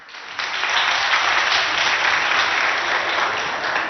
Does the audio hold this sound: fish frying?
no